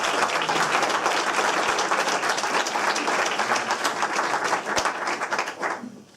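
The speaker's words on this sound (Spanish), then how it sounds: "Un aplauso para David." An audience at a candidacy presentation event in Valladolid applauds a candidate with dense, sustained clapping that holds steady for several seconds and then tapers off at the end.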